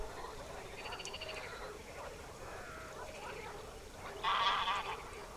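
A flock of swans on open shallow waters, gathered while moulting, gives a chorus of honking calls against a steady background murmur, with a louder, nearer burst of calls near the end.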